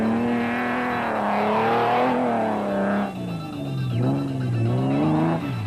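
The Unifreight Ford Ranger's engine works hard through loose sand on the Limpopo 400 rally, a strained, continuous roar whose pitch rises and dips as revs climb and fall, fairly close and with no voices.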